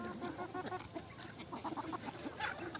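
Several free-range country chickens cluck in a low, busy murmur close by, a few pecking at papaya, with soft overlapping calls and no voices.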